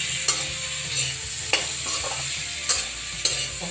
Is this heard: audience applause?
no